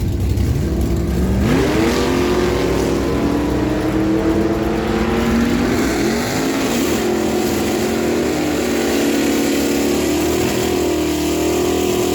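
Drag racing pickups, an 88 Chevy S10 with a 355 small block and a 56 Dodge D100, roar loudly down the dragway, engines climbing through gear changes in a steady, sustained rumble.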